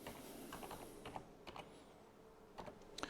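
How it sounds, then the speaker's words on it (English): Quiet bursts of clicking keys on a computer keyboard, irregular clusters of taps close by with short pauses between them in a calm room. "I've got a keyboard next to me over here."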